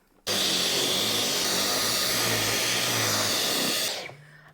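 A Dyson vacuum cleaner with a motorbar head switches on abruptly into a loud, steady high-pitched motor whine with a rushing airflow roar, runs close by for nearly four seconds, then spins down and fades.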